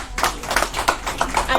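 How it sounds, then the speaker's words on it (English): Brief applause from a small audience at a condo-hotel financing seminar, light and uneven clapping of a few hands, close and moderately loud. "Let's give him a round of applause."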